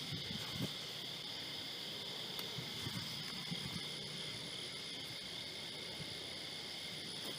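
A steady, distant engine drone like an airplane passing overhead, with faint scattered rustling and a high insect-like whine in the background.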